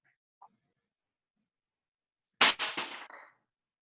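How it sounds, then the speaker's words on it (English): A rapid cluster of four or five sharp, fireworks-like bangs bursts out of near silence, close together and fairly loud, then stops. "Sound like someone shooting off fireworks or something"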